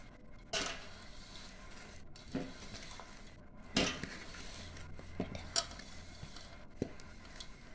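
Metal utensil scraping and clinking in a pot while avakaya mango pickle pieces are mixed with oil, fenugreek and mustard powder; a few sharp knocks spaced apart over a quiet, soft background.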